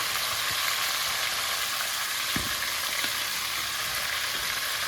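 Cubes of meat dusted with ZEUS seasoning sizzle steadily in a hot pan, a dense continuous hiss and crackle with a couple of faint soft knocks, no voices.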